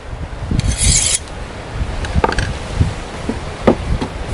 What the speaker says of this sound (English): I always have a file on hand, and I just take and rub it down like that to keep a good edge on there